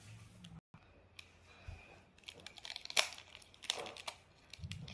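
Scissors cut into a rubber balloon while making a doll outfit, producing scattered crinkles, snips and small squeaky tearing sounds, close and quiet, irregular over a few seconds with no talk.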